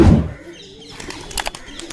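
Pigeons released from a loft in Bangladesh, Giribaz tumbler pigeons, burst into flight with a loud close flurry of flapping wings at the start, then scattered softer wingbeats and faint coos.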